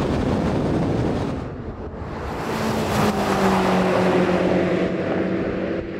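BMW M5 cars accelerate hard in a drag race, a loud continuous engine roar with rising tones climbing steadily through the run, close and sustained with wind buffeting.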